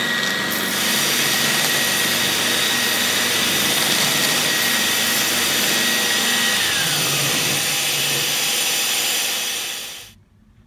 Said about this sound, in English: Sand them like this.